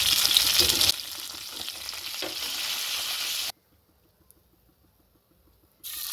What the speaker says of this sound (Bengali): বাকিগুলোও ভেজে নেব